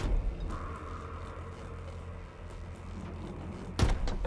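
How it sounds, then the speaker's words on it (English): A door opens in the video game Virtue's Last Reward, with a soft mechanical slide over steady background hum, ending in a louder clunk near the end. "And we can all imagine her going through that door."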